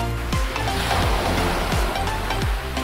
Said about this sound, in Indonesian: Wah teman-teman, ombaknya tinggi banget.